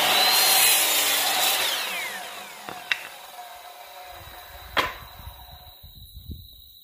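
A power tool, likely a saw, cuts knots off a wooden board for a small bar table: a loud whine fades over the first few seconds, then sharp clacks and thumps of wood follow, with no talk.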